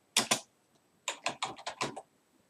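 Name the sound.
typing on a computer keyboard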